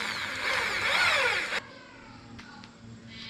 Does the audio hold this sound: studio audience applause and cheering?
no